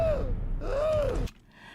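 Grassy, a cartoon character from the animated object show TPOT, panting in distress: a couple of strained, voiced breaths rising and falling, then cutting off abruptly into quiet.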